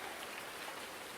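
Rain in Farming Simulator 19, a soft, steady hiss of falling rain with no distinct drops standing out, faint and continuous.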